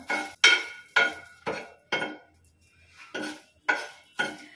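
A spoon scraping and clanking around a dry pan as shrimp, tamarind and other chutney powder ingredients are roasted, eight steady, close, ringing strokes with one short pause.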